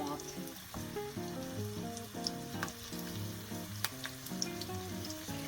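Steady crackling sizzle of garlic frying in hot oil in a pan before zucchini goes in, continuous throughout with occasional sharper pops over a low background hum.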